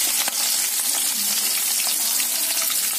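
Green chillies and onions frying in hot oil in a pan for a prawn curry, a steady close hiss of sizzling with small crackles throughout, no voices.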